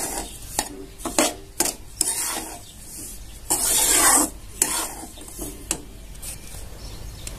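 A spoon rasps and scrapes through a thick sabudana barfi mixture with sugar in a pan, in irregular close strokes with occasional sharper knocks against the pan and no speech.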